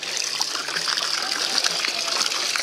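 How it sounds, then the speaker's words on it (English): Water gushes steadily into a backyard pool running low, a continuous splashing trickle heard close and alone. "Have to fill up the water. We have to fill up the pool some because it's a little low."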